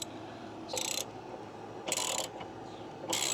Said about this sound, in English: So a 11/16 socket, 11/16, and we're gonna go counterclockwise, so lefty loosey, but in this case lefty tighty.